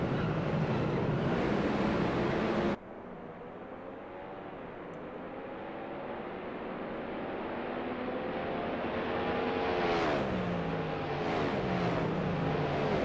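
A dense wash of many race car engines overlapping in Assetto Corsa ranked racing, a steady droning roar with shifting pitches that rise and fall together, loud and continuous with no voices.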